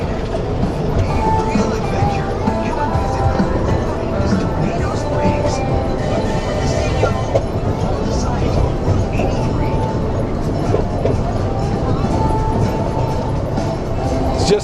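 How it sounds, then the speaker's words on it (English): Theme park railway ride at Paultons Park on opening day: a steady rumble and clatter of the train running throughout, with continuous crowd and voice noise mixed in. "Just the ambience, isn't it, of a nice railway ride."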